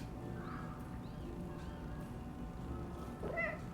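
A cat meowing in the video game Little Kitty Big City, faint and in the background over a low game soundscape, with a couple of short meows and a clearer one near the end.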